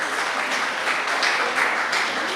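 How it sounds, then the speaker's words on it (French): An audience at a high school quiz competition claps steadily for the Lycée Malick Sy team, a dense, even patter of hands that fills the room without pause. "sous vos applaudissements, s'il vous plaît"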